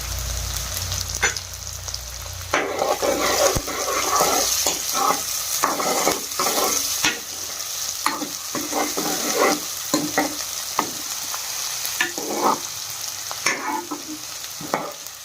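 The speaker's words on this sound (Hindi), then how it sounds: "साग को तड़का मैंने लगा दिया।" Spices tempering in hot oil for a pot of saag, with red chilli going into the tadka, sizzle and fry steadily while a spoon stirs in bursts and scrapes against the pan, close and fairly loud with no talking.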